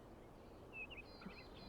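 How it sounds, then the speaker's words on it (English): Birds in The Talos Principle 2 video game chirp faintly outside a dome, a few thin high calls drifting over a low ambient hum. "Do you hear the birds chirping outside the dome?"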